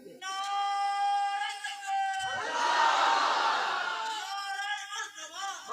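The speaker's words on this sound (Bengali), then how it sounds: "আল্লাহ একজন তাকবীর মারো, নারায়ে তাকবীর।" A large crowd roars a takbir chant in response to a leader's call at a religious gathering, a sustained swell of many voices preceded by a single singing voice.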